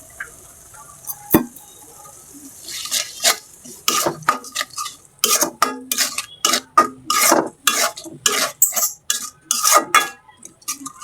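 Spice masala of turmeric and other ground spices with salt being stirred and sautéed in a pan, ready for chicken feet bhuna; a utensil scrapes and clatters against the pan in repeated irregular strokes, close and fairly loud, with no talking.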